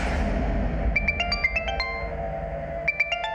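A phone ringtone plays as a quick run of bright electronic beeps, pauses for about a second, then repeats, sounding moderately close over a low background hum and clear of any talking.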